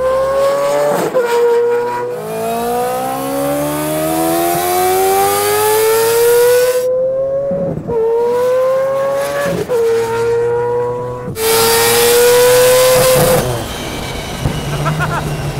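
A race car's engine revs hard and rises in pitch through repeated acceleration runs, with bursts of tire squeal between gear changes, loud and close throughout.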